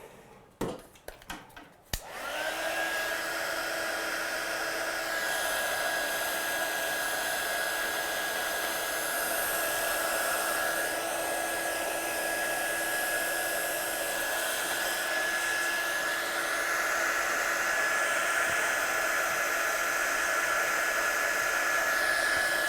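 A hair dryer blows steadily on stamped watercolour artwork, switching on after a few brief handling clicks and then running loud and continuous with a high whine for the rest of the time.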